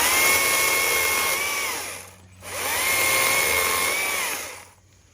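Stihl MSA 120 C battery chainsaw cutting small green limbs: two loud, close bursts of high electric whine, each a little under two seconds long with a short pause between, and nobody speaking.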